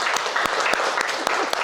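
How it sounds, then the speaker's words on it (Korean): An audience at a Seoul National University special lecture claps to thank the chef and staff after a dim sum session. The applause is close and lively, with a few sharp individual claps standing out. "셰프님하고 스텝 선생님들 되게 고생 많이 해주셨는데 감사의 박수!"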